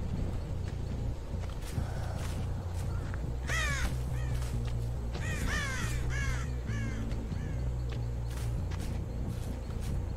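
Crows caw in short clustered bursts within the Dead by Daylight horror game, moderately loud above a steady low ambient drone and faint footsteps, spaced through the middle of the stretch.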